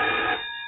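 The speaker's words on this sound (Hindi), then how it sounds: "boss phone" A telephone rings in an animated coronavirus spoof, with one loud, bright electronic ring burst that cuts off and leaves a softer lingering tone.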